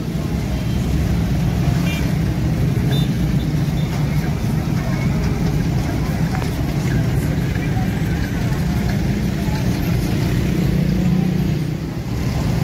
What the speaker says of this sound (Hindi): वो मेरे पीछे एक मुकम्मल लाइन लगी हुई है गाड़ियों की।